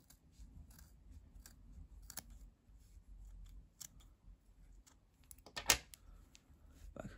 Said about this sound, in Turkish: Bu bağladığım yerin tam karşısını makas ile kesiyorum bak.